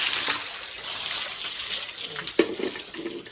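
Water splashing as someone bathes in an outdoor herbal well at a Kanjamalai hill temple near Salem, a steady rush of pouring water with a few sharper splashes toward the end.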